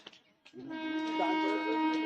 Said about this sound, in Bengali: এই যে পরের ট্রেন আসছে